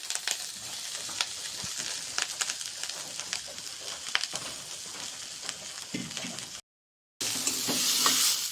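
Shredded coconut sizzles and crackles in hot oil in a pan, a steady frying hiss with scraping stirs, close and fairly loud.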